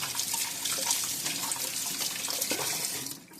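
A running kitchen tap splashes steadily as dough is rinsed off hands, a continuous close water rush with small splatters that fades out at the very end.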